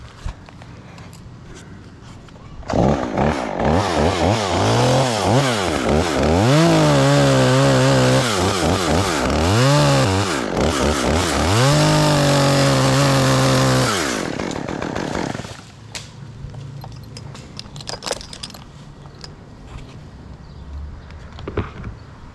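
A chainsaw roars close by, revving and bogging as it cuts through wood for about twelve seconds, then drops back to a quiet idle with faint shuffling afterward.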